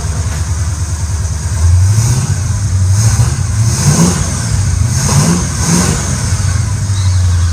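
A 1969 Pontiac Firebird engine runs close and loud, its steady idle rumble rising into several revs that climb and fall in pitch, with no talk over it.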